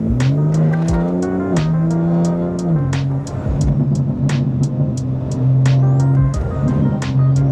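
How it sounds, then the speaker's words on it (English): A loud turbocharged BMW S58 engine fitted with a T51R blow-off mod revs and accelerates hard, its pitch climbing and dropping through gear changes, with sharp whooshing blow-off bursts throughout. "It kind of gives a little bit of a blow-off valve sound"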